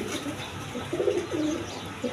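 Large, lively Goldra pigeons give low cooing calls close by, two or three rolling phrases against a steady room hum, with no one speaking.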